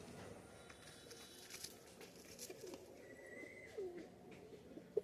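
Pigeons in a loft give soft, low cooing, faint and intermittent against a quiet background with light rustling and a sharp tap near the end.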